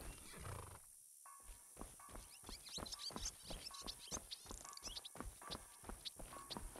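A horse in a video game, heard faintly behind a rapid run of hollow clip-clop hoofbeats that carries on steadily after a brief gap. A soft whinny sounds at the start.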